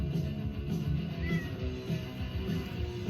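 A cat meowing indoors, a soft, drawn-out call blended into low room noise and rustling with no clear speech.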